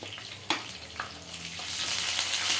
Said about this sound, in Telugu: పచ్చిమిరపకాయలు వేసుకోవాలి కట్ చేసుకుని, కరివేపాకు,